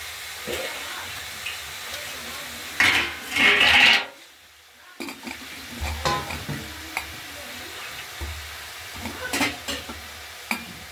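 A spoon scrapes and stirs gourd curry with bori in a pot on the stove. Soft sizzling runs beneath intermittent rasping strokes, with a louder scraping burst before a brief lull.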